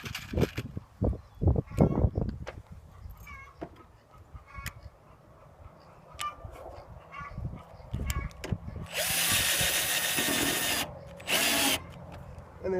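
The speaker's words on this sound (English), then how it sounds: "we'll screw our screws in." Cordless power drill driving screws into an RV camper rock guard: scattered taps and clicks give way to two loud whirring bursts, the longer one first, then a shorter one, close up with no talk.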